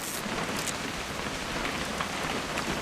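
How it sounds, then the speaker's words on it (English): Steady rain falls in the video game What Remains of Edith Finch, an even, dense patter spread across the whole stretch, moderately loud and continuous, with no voices. "It's gonna rain the whole weekend, isn't it?"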